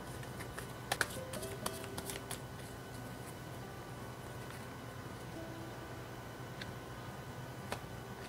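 Tarot cards are shuffled and dealt onto a table: a quick run of crisp flicks and taps near the start, then a few sparse card snaps over a quiet, steady background.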